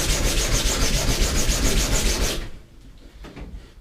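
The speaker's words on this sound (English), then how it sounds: "I was sanding on the seam" Rapid back-and-forth sanding strokes with a sandpaper block along a seam of a cosplay Buster Sword prop, a steady rhythmic rasping that stops abruptly partway through, leaving a quieter room with faint rustling.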